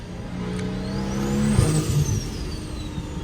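BMW 335i engine revving up after a downshift into second gear, a steady mid-pitched drone that climbs and swells with a brief surge midway, heard from inside the car with no talking.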